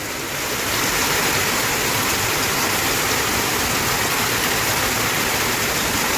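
Heavy rain pours down steadily in a dense, loud, unbroken hiss that swells in during the first second and then stays constant, with no voices heard over it.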